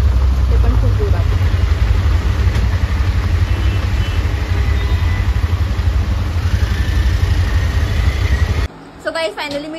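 An auto rickshaw ride home through rain in Dombivli gives a loud, continuous engine drone mixed with road and wind noise that holds steady for most of the stretch and then drops off abruptly near the end.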